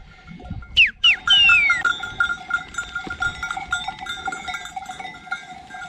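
Several sharp bleats from a sheep or goat, followed by a ringing, sustained tone and scattered rustling outdoors.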